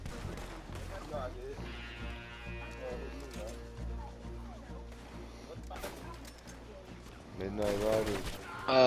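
Gunfire rings out during a Red Dead Redemption 2 posse fight, with a few sharp shots and then a louder rapid burst near the end, heard under players talking over game sounds.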